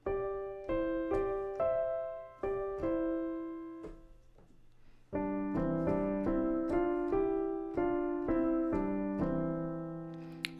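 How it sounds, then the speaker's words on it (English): Orchestral horns play a harmonized melody in horn fifths, sustained two-voice chords moving stepwise with clear note attacks, rising in fullness halfway through as more parts join, steady and majestic with no talking. "It goes by the name of horn fifths"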